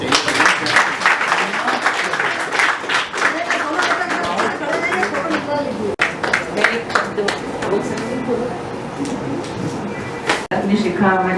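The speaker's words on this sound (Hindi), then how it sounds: "तालियां आपको बजानी चाहिए।" Applause at a book felicitation ceremony in India: an audience claps in quick irregular bursts that rise and fall, with short pauses and a moment of talk near the end.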